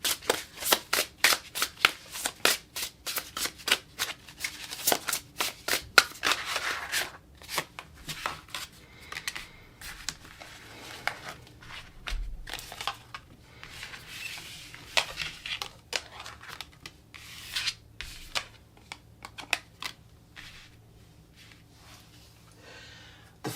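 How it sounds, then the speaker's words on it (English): Tarot cards shuffled by hand in a quiet home, giving a long run of crisp riffling and slapping bursts with short pauses, close and fairly soft, with no talk. "I'm going to go ahead and just shuffle a few cards before the kids get up."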